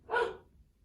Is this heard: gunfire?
no